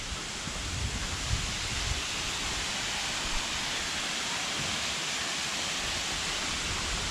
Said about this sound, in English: So that there is the waterfall.